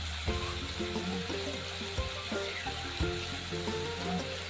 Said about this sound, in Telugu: కొంచెం ఈ అల్లం పచ్చివాసన పోయేంత వరకు వేయించుదామండి